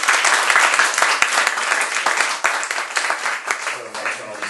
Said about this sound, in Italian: un applauso a Bruno